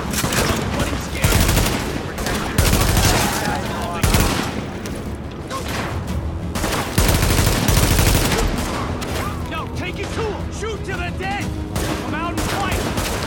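Gunfire from The Division video game rattles almost continuously in loud rapid bursts and single heavy shots, with people talking over the shooting.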